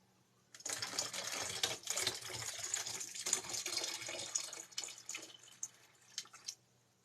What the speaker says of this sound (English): Let me pour my coconut water in this big bottle real quick.